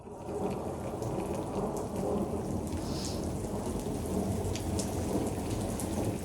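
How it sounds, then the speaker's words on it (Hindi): Heavy rain pours steadily and loudly with rumbling thunder rolling underneath, a dense continuous downpour at a street crossroads with no voices. "घमासान बारिश।"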